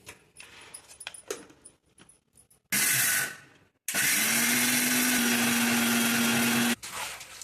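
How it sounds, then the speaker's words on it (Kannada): A mixer grinder grinds roasted gram and sugar in two loud bursts: a short one of about a second, a brief pause, then a steady whir lasting about three seconds, with quieter kitchen handling around them. "ಈ ಕಡ್ಲಿ ಸಕ್ಕರೆ ಹಾಕಿ ಮಿಕ್ಸಿ ಮಾಡ್ಕೊಂಡು ಅದಕ್ಕೆ ಹಾಕಿ ಕಾಯ್ಬೇಕು"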